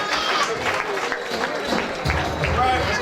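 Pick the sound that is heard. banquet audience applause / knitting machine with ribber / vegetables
banquet audience applause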